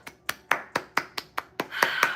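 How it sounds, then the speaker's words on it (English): Hands clap in a steady, even rhythm: about nine sharp, close claps roughly a quarter second apart, growing slightly fuller toward the end, with no talking. "clap it up"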